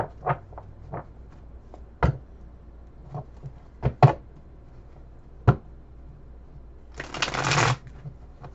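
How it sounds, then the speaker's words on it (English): Cards are handled with scattered sharp snaps and taps, then a brief riffling burst near the end, all close and quiet with no talking. "I'm going to shuffle them and put them, back in and"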